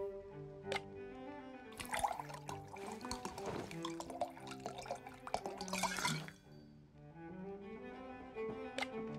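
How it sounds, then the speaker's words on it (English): Wine poured into a glass in the video game Card Shark: a gurgling, splashing trickle that builds in the middle and then tapers off to a few drips, set against a background musical score. "Pour me a glass, lad."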